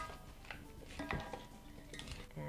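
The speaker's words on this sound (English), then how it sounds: "you're just gonna toss it around some more and get everything thoroughly coated" Broccoli salad tossed with dressing in a bowl, with soft clinks and scrapes of utensils against the dish in an irregular rhythm, fairly quiet and close, no talking.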